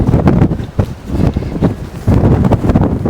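Very strong wind on top of a hill roars and buffets a microphone without letup, loud gusts surging and dipping with heavy rumbling throughout.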